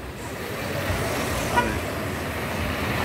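Street traffic on Avenida ACM in Itamaraju, Bahia, makes a moderate, steady roadway hum of passing vehicles, with one brief horn toot midway.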